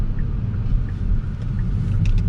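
2019 Kia Stinger GTS under way, a loud, steady low rumble of engine and exhaust heard from inside the cabin, continuous with road noise and no talking.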